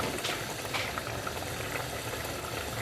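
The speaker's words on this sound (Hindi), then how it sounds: "अब देखिए इसमें बबल बनना शुरू हो गया।" Qeema matar, minced meat and peas with about a cup of added water, bubbles steadily in a cooking pot, a dense continuous close simmer of popping bubbles with no voices.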